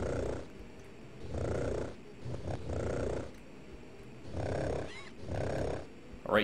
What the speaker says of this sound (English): That fucking triceratops purring sounds so weird whenever the internet connection hiccups like it did.